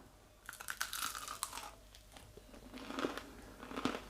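Crispy deep-fried spinach and potato pakora bitten into, giving several sharp, close crunches followed by quieter chewing crackles with no talking.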